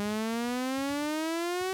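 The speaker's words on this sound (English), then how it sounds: "We're going to pitch bend it right up, and then on the higher note, we're going to pitch bend it up again" A sustained synthesizer note gliding steadily upward in pitch, bright and buzzy, heard alone.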